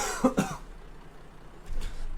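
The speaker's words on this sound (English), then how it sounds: "I was like sort of trying to stop myself coughing" Two quick, close coughs from one person, muffled and bunched together, then a faint rustle and soft breath as the sound trails off.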